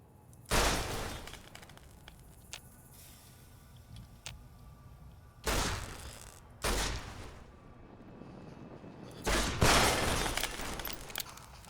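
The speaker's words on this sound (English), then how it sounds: "That's some slick shooting." Gunfire in Fallout: New Vegas at a compound, heard as a few separate loud bursts spaced several seconds apart over a low ambient background, with no talking.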